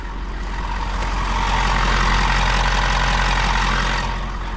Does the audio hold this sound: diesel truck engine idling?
yes